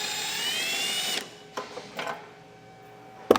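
A power tool runs steadily while breaking loose the bumper beam bolts on a 2018 Volvo XC60, then stops, followed by a few short bursts and a sharp metallic clank at the end.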